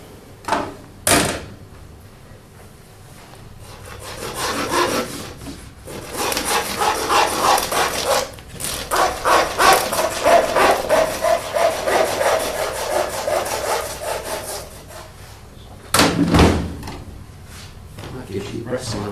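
A saw cutting through lamb breast bones on a butcher's block, rhythmic rasping strokes building into a long continuous run, with sharp knocks at the start and end and a voice talking briefly.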